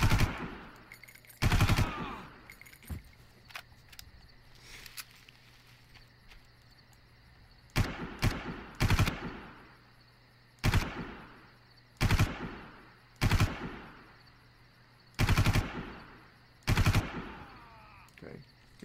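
Loud, close bursts of M16 rifle fire in the video game Far Cry, repeated short volleys and single shots at irregular intervals, with quieter gaps between them.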